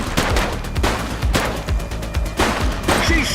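Gunfire in the police video game The Precinct during a shootout with suspects, a rapid string of loud, punchy shots in quick bursts with short gaps, busy and close throughout.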